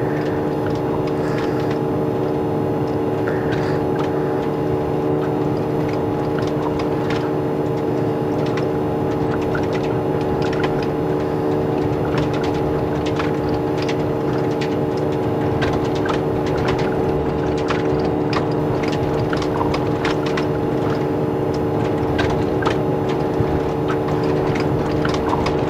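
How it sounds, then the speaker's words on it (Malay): A steady, loud aircraft engine drone from a flight simulator game hums continuously with an even tone throughout, alone and without pauses. "Syahdu boleh dengar suara enjin terbang ni."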